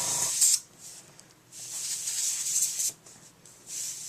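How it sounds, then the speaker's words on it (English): Airbrush spraying Copic ink onto a card, a steady close hiss in several bursts with short pauses between them, and no talking. "I'm going to try to get more airbrushing closer to his body and then spread it out a little bit."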